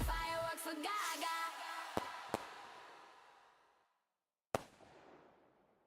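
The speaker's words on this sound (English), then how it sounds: "Let's see those fireworks." A fireworks sound effect plays during a Wordle game stream: a rushing whistle with crackling bursts, a few sharp pops, a fading tail, then one final sharp bang that rings out. No voices are heard.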